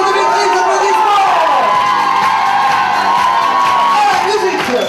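An audience cheers and whoops for the first show of the evening, a loud, steady wash of crowd noise with a voice carrying over it.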